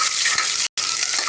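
Onions sauté in hot oil with curry leaves, giving a loud, close, dense sizzle and crackle broken by a split-second gap of silence.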